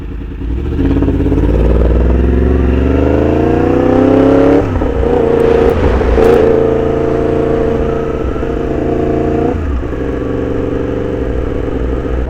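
Motorcycle engine heard through a helmet camera, idling at lights and then revving up through gears with rising pitch, loud and steady with wind roar and no talk.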